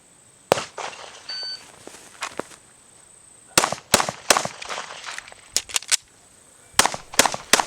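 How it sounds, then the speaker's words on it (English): Handgun fired at a range target, several sharp loud cracks in irregular clusters, each followed by a short ringing echo, with no talk over them. "Load, 3 rounds into the right target."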